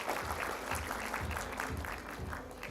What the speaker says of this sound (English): A big round of applause for our teachers.